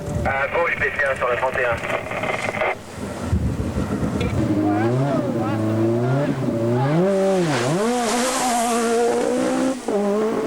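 Rally cars at the 1986 Rally New Zealand roar along a long special stage; loud engine note swells and drops in revving sweeps, with a voice speaking over much of it.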